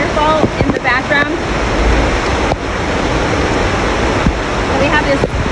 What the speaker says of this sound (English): So right now, you can see the waterfall in the background.